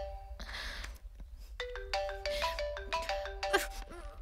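A mobile phone plays a melodic ringtone for an incoming call, tonal notes repeating in a bright pattern over a low hum, fairly close and clear with no talk over it.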